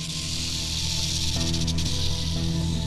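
A rattlesnake in the desert gives its warning rattle, a continuous dry buzzing hiss heard close and loud, with a brief shift in intensity partway through.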